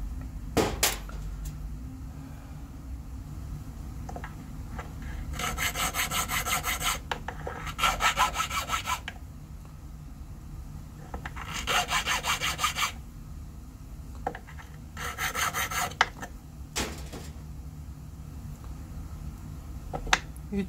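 A hand file rasping across the cut end face of a metal bar being shaped into a gold bar, in several bursts of rhythmic strokes separated by pauses, close and moderately loud with occasional knocks between.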